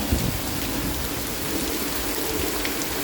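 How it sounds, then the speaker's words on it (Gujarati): Heavy rain pours steadily onto a flooded road in Porbandar, Gujarat, making a dense, continuous hiss with no breaks and no voices. "બહુ જોરદાર વરસાદ આવે છે"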